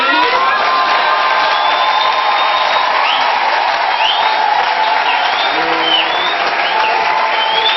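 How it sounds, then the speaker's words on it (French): A church congregation at a pastor's installation service applauds and cheers loudly, with dense sustained clapping, shouts and whoops throughout, plus a few whistle-like tones above the crowd noise. "Est-ce que vous pouvez applaudir le pasteur Goy?"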